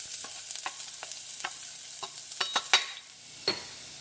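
Chopped onion sizzling in about two tablespoons of oil in a pan, with a steady low frying hiss broken by repeated short scraping clicks of stirring.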